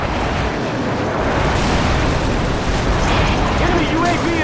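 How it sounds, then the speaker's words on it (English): Airstrike explosions pound continuously in Call of Duty 4: Modern Warfare multiplayer, a loud dense rumble of blasts and debris with no clear gaps, sustained at full volume throughout. "Friendly airstrike on the way!"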